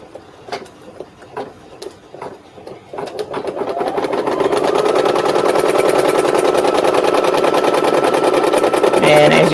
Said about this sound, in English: So we'll go ahead and start our stitching.